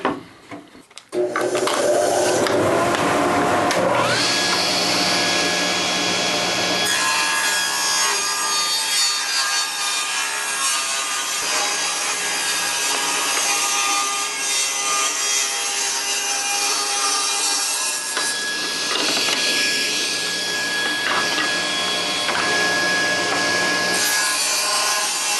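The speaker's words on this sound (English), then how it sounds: "I've set the table saw fence to 1 5/8, so just a little bit wider than the wheel base, and I've set the height of the blade, and we're ready to start running some lumber" Table saw rips lumber, its blade rising to a loud, sustained whine with a steady high tone and rough cutting noise that carries on for over twenty seconds before easing.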